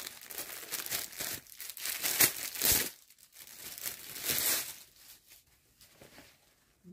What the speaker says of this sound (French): Alors, elle est emballée dans un petit sac plastique.